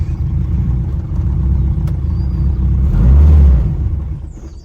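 A turbocharged B18 engine in a boosted Honda Civic hatch idles with a heavy, loud rumble, then a brief throttle blip pushes it up around three seconds before it settles back, close by with no talk.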